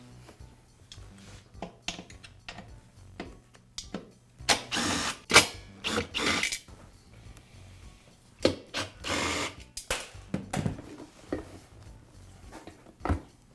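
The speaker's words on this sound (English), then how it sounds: "Now remove the motor and pump assembly from the tank." A Porter Cable air compressor's motor and pump assembly is worked free of its tank in bursts of close metallic clanks, rattles and scraping, with quieter handling between them.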